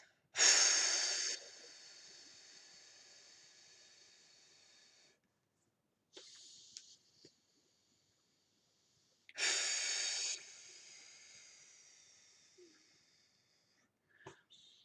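Slow, deliberate breaths through the nose during alternate nostril breathing with one nostril held shut by a thumb, from a mildly congested person. Two long airy drawn breaths come up close, separated by near-silent pauses, plus a shorter one between them.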